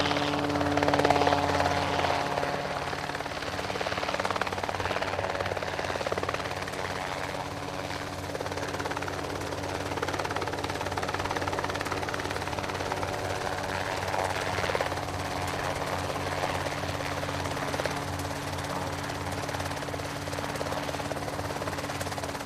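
A RotorWay helicopter's engine and rotor drone steadily and loudly throughout, a constant mechanical hum with a rhythmic rotor beat and no break.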